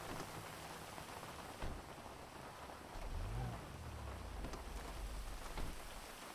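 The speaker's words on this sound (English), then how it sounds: "it started to rain." Steady rain pours in the FiveM role-play game, a continuous hiss of drops with a low rumble of thunder swelling midway, with no voices.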